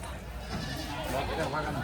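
A Kathewadi goat at a livestock market in Chalisgaon bleats faintly amid crowd chatter and someone speaking nearby, with a steady murmur of market noise around it.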